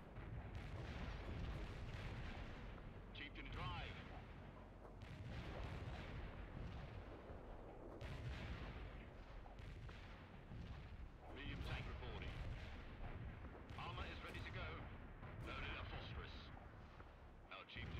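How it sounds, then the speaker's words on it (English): Repeated gunfire and booming artillery from the real-time strategy game World in Conflict roll on steadily through the whole stretch, with someone talking over the battle noise. "Oh, it's something shooting."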